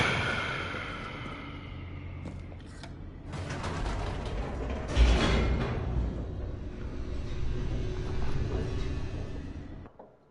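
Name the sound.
elevator descending in The Stanley Parable video game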